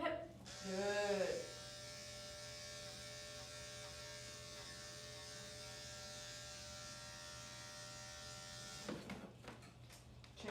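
Electric dog grooming clippers buzz continuously with a steady, bright hum for most of the span, then cut off near the end, with a short voice heard at the very start.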